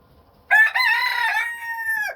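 A single rooster crows loud and close, one drawn-out crow of under two seconds standing alone after a quiet start.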